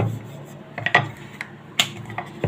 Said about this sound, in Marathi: एकसारखी पोळी लाटायची आहे इथे पोळी आपण लाटून घ्यायची चांगली